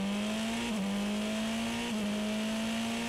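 A Super Formula race car at the race start, heard from onboard, drones with a loud, steady engine note that dips briefly at gear changes and then climbs again, set against rushing wind noise.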